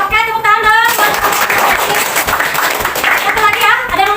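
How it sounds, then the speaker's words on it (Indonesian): Students in a classroom break into clapping, a quick patter of hands that rises and fades over a few seconds, mixed with voices and some talk nearby. "tepuk tangan dong"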